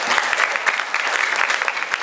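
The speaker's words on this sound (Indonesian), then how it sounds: "Tepuk tangan untuk kita semua." Audience applause at an indoor seminar event, a dense continuous patter of clapping from a crowd, steady and fairly loud for its whole length.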